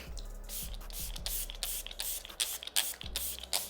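Milk Makeup setting spray hisses out in several short spritzes close to the mic, a burst of quick sprays in a row, with faint handling noise between them.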